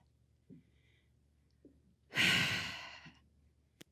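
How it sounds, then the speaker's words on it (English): A woman taking one deep breath, a close, loud, drawn-out exhale lasting about a second after a few faint mouth sounds, with no talking. "I just need to take a deep breath"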